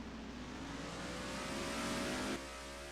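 A race car engine in a racing video game at Yas Marina pulls out onto the track during qualifying, a steady mid-pitched drone that swells slightly before easing off, with no talk.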